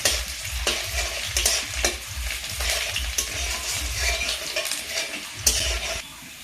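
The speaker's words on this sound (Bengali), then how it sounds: "পেঁয়াজটা আমি একটু লাল করে ভেজে নেব।" Steady sizzling of onions frying in hot white oil, with periodic scrapes and clatters of a spatula stirring the pan.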